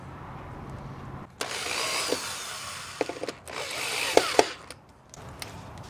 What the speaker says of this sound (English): So I'm going to put these 2 screws back through the middle where I had them.